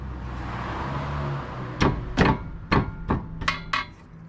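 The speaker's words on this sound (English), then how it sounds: "this uses a 10mm wrench." Metal tools working on the tie rod of a 1999 Toyota Corolla with a 10mm wrench: after a steady background hum, about six sharp, fairly loud knocks and clanks land in an uneven rhythm, close by, with no talk.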